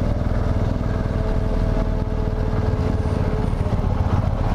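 Engine of an Indian Challenger motorcycle running steadily nearby, a continuous low rumble with a throaty idle or cruising note, no voices over it.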